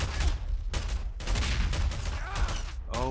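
Tank cannon fire and gunfire in a Garry's Mod battle between modern military and Star Wars forces, a dense continuous barrage of booming shots and clatter lasting throughout, loud and close.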